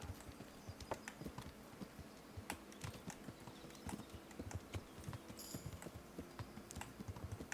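Horse hooves clip-clop steadily while riding in the video game Kingdom Come: Deliverance, a faint, rhythmic trot with irregular clicks layered over a soft ambient bed.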